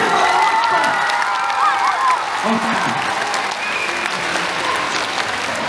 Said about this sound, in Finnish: Annetaan roikuvat aplodit!